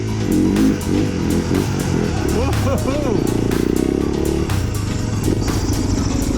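A dirt bike engine growls loud and close while riding through deep terrain, the revs rising and falling as it labours through, with rapid clatter over the engine note.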